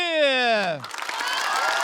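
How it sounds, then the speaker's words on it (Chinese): An audience at a stand-up comedy show claps and cheers to welcome a comedian, with a burst of applause following a short spoken introduction; the clapping is steady and moderately loud. "掌声欢迎贾德玉"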